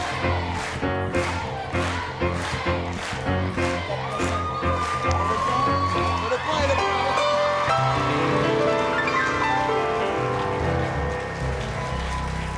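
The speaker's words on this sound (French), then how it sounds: "Vous pouvez l'applaudir encore plus fort" A television audience at a children's singing show claps in steady rhythm and then breaks into cheers and whoops for a child singer, with the crowd noise blended over loud backing music throughout.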